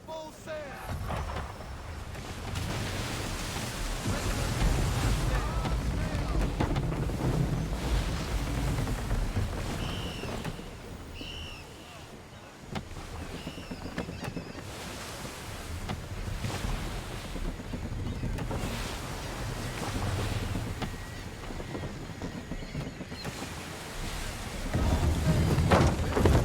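Sailing ship underway at sea in Assassin's Creed III: a steady bed of wind, creaking hull and rushing waves runs throughout, with occasional voices, swelling louder near the end.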